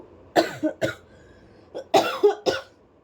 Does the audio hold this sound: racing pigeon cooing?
no